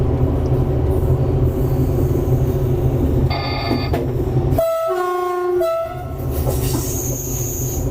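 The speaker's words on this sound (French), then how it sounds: "je vais siffler avant l'entrée du tunnel" Two-tone horn of a train sounding before it enters a tunnel on the Aurillac–Figeac line, heard from the cab over steady rumbling wheels and rail noise; two long blasts of alternating pitch ring out loudly, followed by a higher whistle-like tone.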